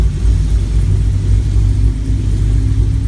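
A cammed LS V8 engine, idle-tuned with drive-by-cable throttle, revved lightly to about 1800 RPM, giving a steady, loud, close low rumble with a slightly lumpy pulse throughout and no voices.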